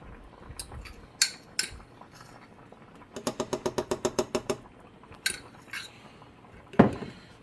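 Metal spoon scraping and clinking against a cooking pot while a chicken cordon bleu sauce mixture is stirred, a quick run of about ten rhythmic knocks in the middle with scattered single clinks around it, close and moderately loud.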